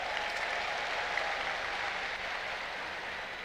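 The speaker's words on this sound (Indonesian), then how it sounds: "boleh beri tepuk tangan kepada mereka." Crowd applause during a political speech at a PKS party anniversary event, a steady, fairly distant wash of clapping held evenly throughout with no speech over it.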